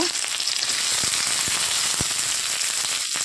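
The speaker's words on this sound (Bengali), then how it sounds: "দিয়ে দিলাম পেঁয়াজ কুচি রসুন কুচি এবার একটু ভালো করে ভেজে নেব" Chopped onion and garlic with bay leaf frying in a hot wok, a loud, dense, continuous sizzle with a few sharp pops, close up, no voices.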